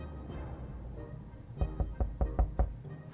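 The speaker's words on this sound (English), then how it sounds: "somebody's knocking at the door" Knocking at the shelter door in the video game 60 Seconds! Reatomized, a run of about six firm, evenly spaced knocks over a low, quiet background.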